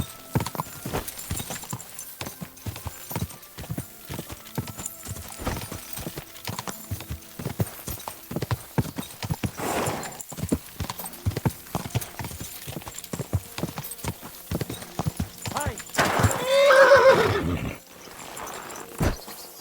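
Horse hooves clop in a steady rhythm in the medieval game Kingdom Come: Deliverance II, with a louder whinny near the end, up close.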